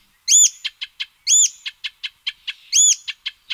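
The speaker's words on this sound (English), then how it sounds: "You can also listen to all the bird calls." Bird call played back from an iPhone bird identification app: a clear, close phrase of a bright buzzy note followed by several short chips, repeated three times in an even rhythm.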